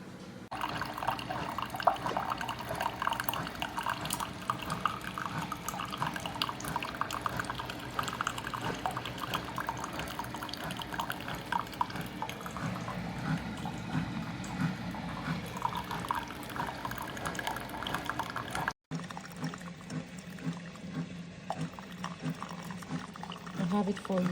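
Liquid pours and trickles from a Mecity 3-in-1 single-serve coffee maker into a 16-ounce cup. A steady, faint stream with dripping runs beneath a person talking and breaks off briefly near the end.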